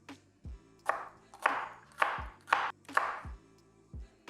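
A knife chops vegetables into julienne matchsticks on a cutting board, six crisp, evenly spaced strikes, close and clear with no talking.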